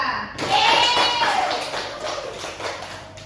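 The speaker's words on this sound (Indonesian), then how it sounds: "aplaus untuk kita semua" Applause rings out in a classroom during a physics microteaching lesson, a steady burst of many hands clapping that begins abruptly and then tapers slowly, with a whistle-like tone gliding through near the start.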